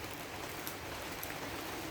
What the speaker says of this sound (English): And you could hear the rain.